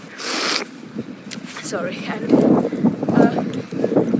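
Gusty wind buffets a microphone outdoors during a sponsored unicycle ride, a broad rumbling roar loudest in a strong burst at the start, then continuing in uneven gusts beneath voices talking nearby.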